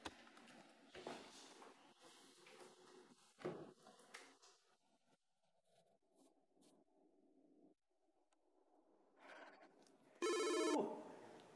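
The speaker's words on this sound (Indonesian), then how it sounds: "Udah ada yang masuk nih, telepon. Langsung aja kita angkat nih ya." A telephone rings with an incoming call during a radio call-in show, one short, loud electronic ring bursting out near the end after quieter rustling and scratching sounds.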